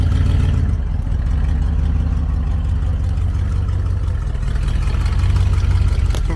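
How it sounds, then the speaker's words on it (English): A 1971 International Travelall engine idles with the choke off and an open manifold, a steady deep rumble that holds close and loud without a break for the whole stretch, with no talk over it. "Sounds much better with the choke off. Yeah, it idles. Sounds good for open manifold."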